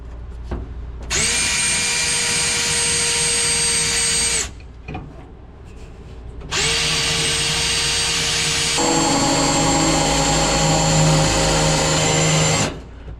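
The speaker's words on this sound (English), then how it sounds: "I got drill holes in it." An electric drill with a worn quarter-inch bit whines loudly in two long bursts, spinning up and winding down with a short pause between, the second run straining as it bites.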